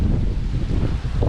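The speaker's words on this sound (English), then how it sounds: "Holy crap, it is windy as hell out here" Strong wind gusts outdoors by a river, buffeting the microphone with a loud, rumbling low roar that surges unevenly throughout.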